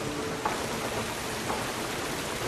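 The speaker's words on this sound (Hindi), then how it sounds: "क्योंकि बारिश हो रही है" Rain falls in a steady, even hiss, continuous and fairly close, with no voices heard.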